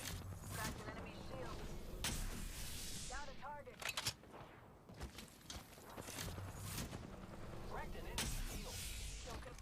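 Gunfire from a first-person shooter game shootout comes in bursts of sharp shots between quieter gaps, with a player talking over parts of the action.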